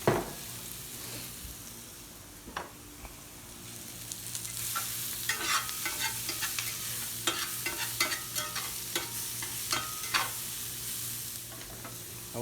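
Onions frying in olive oil and sausage grease in a pan, with a steady sizzle throughout and repeated scraping stirs of a utensil close up, and no talking.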